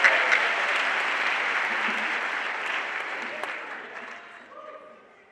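A school audience at a Mr Wildcat show gives a round of applause that starts full and dense, holds steady, then thins out and fades toward the end.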